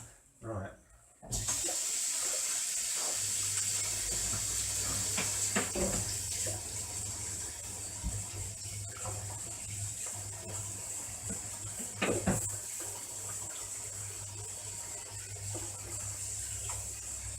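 Kitchen tap running steadily while hands are washed at the sink, a loud continuous gush of water that starts abruptly, with small splashes and clatters and a voice speaking over it.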